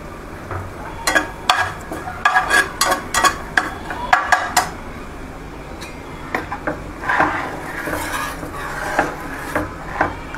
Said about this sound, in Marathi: जास्त खडखड आवाज येत असेल तर ते पण सांगा.